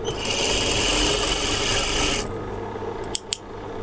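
A sewing machine stitches the side slit of a kameez, giving a steady, close raspy whir for about two seconds before stopping. A couple of sharp clicks follow in the quiet.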